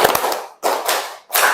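During a positive-culture teacher training session, a group claps in unison with a few loud, well-spaced strikes that ring briefly in the room.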